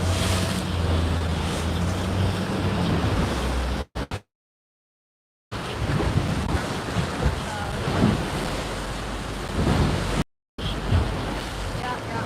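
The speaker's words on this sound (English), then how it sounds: "we're going to sail inside here between the cliffs." Steady wind roar and waves wash around a sailboat moving between cliffs near Hestoy and Koltur in the Faroe Islands, loud and continuous with microphone wind buffeting and two brief dropouts.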